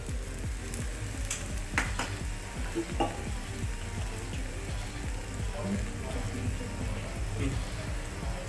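Mung dal edani fritters frying in oil on a pan in a Khandeshi home kitchen, a close continuous sizzle with bubbling crackles and a few sharper pops and utensil taps near the start.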